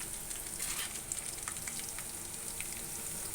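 Onions and green chillies frying in a pan for a potato curry, a steady close sizzle with soft crackling pops running throughout, no voices.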